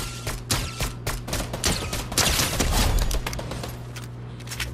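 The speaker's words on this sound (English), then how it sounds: "You gotta kill one with the pump shotgun" A pump shotgun fired in a multiplayer shooter video game, with a rapid string of sharp blasts and overlapping gunfire that becomes denser midway before easing off.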